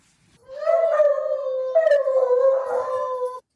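A single dog gives a long, clear howl close to the microphone, the tone rising and wavering before a short break and a second rising note, then it cuts off into silence.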